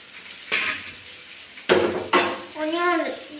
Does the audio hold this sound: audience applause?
no